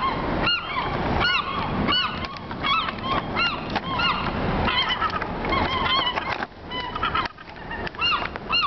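On a parking garage rooftop, attacking seagulls keep up a loud, nearby chorus of harsh honking cries, calls overlapping in rapid bursts with brief lulls and no speech.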